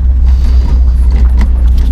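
Deep, steady low-end engine rumble from a BMW E36 car with a swapped M50 six-cylinder engine, heard loud from inside the cabin while driving, with faint rattles over the drone.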